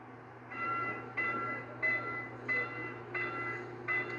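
A train passes near a level crossing where a bus is stuck, with a repeating warning tone sounding in regular pulses over a steady low rumble, and the train horn sounding; no voices.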